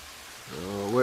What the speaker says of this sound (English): sheltering from rain under the trees here